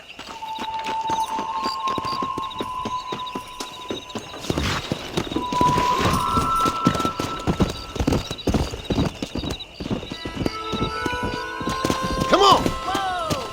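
Horses' hooves clatter in a fast, steady galloping rhythm in the Western video game Red Dead Redemption, loud and continuous, with a whinny and spoken lines over the hoofbeats.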